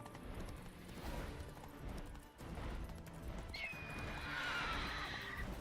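Roach the horse gallops in The Witcher 3 with steady clip-clop hoofbeats, a loud whinny rising over the run, and game sounds filling the background.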